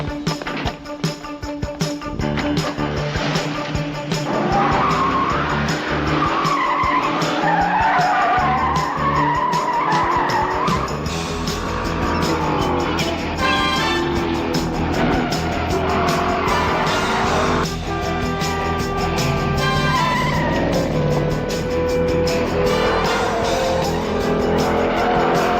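A car chase with tires skidding and squealing hard as engines roar and cars race past, loud and sustained with repeated screeches and no talking.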